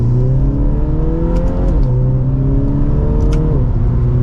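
A 2023 Mini Cooper 2-door hardtop John Cooper Works pulls hard from second gear, its loud engine drone climbing steadily in pitch with two quick dips at the shifts, heard from inside the cabin with no talk.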